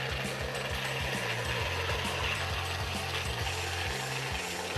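Tire inflator chuck being screwed onto a valve, a string of close, quick ratcheting clicks in irregular bursts over a steady hiss of background noise.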